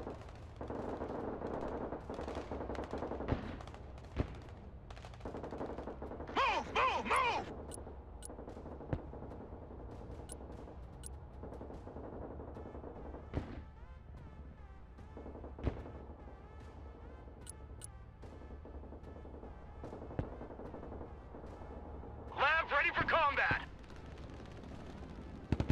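Marines in the Broken Arrow video game fire on the battlefield in repeated automatic bursts and scattered single shots, sharp cracks over steady combat rumble, with radio-style voices breaking in.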